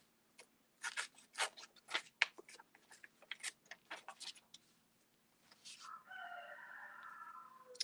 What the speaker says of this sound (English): I don't know if you can hear my rooster out there.